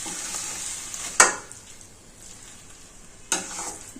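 Potatoes for aloo paratha sizzle in a hot pan, a constant hiss with two sharp scraping stirs from a spatula.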